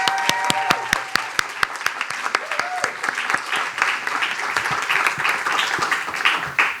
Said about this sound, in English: A huge round of applause for everyone who has performed today.